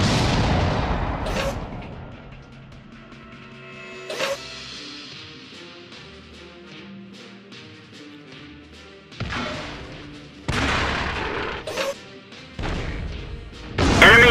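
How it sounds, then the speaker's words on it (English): Heavy artillery blasts and gunfire in a World of Tanks battle: a loud opening boom, scattered sharp reports, then several powerful broadband explosions clustered near the end, with ringing tails between them. "Fucking artillery."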